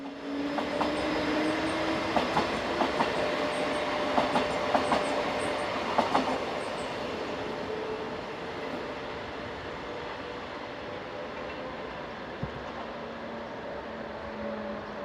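Locomotive 1144011 hauls a northbound train through Peggau station toward Bruck an der Mur, a steady rumbling pass with rhythmic wheel clatter and a few sharp clicks, loud at first and easing to a lower, continuing roll as it moves away.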